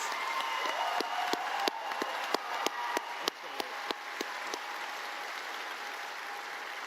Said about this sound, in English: Let's all give one more round of applause to all our talented speakers, singers, and musicians.